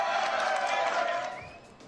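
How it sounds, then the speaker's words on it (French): Studio audience of a French television talk show breaking into applause, a dense wash of clapping that holds steady and then fades away toward the end. "Applaudissements, s'il vous plaît."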